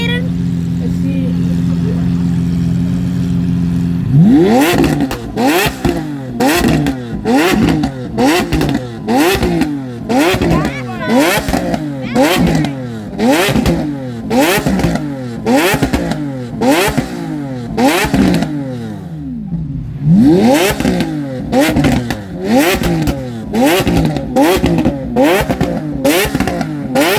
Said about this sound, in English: Yo, that car's loud.